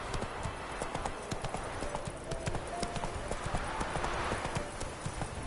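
Roach the horse's hooves clip-clop steadily at a fast gallop in the video game The Witcher 3, a continuous close rhythmic drumming of hoofbeats.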